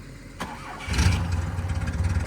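A 1970 BMW 2002 engine cranks and catches, a brief starter click giving way to a loud, steady low rumble with rhythmic pulsing as it settles into a rough, tractor-like idle.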